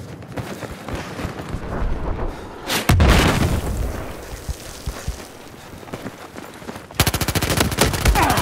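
Automatic machine gun fire in Battlefield 4 gameplay, with loud bursts and booms near the middle and then a rapid, evenly spaced string of close, sharp shots toward the end.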